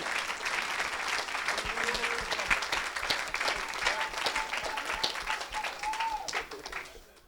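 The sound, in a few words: audience applause and cheering for Jesus at church event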